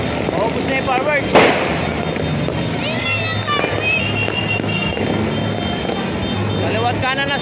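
New Year's midnight fireworks with one sharp, loud bang early on, set against lively crowd chatter, whistles and scattered background noise as people talk close by.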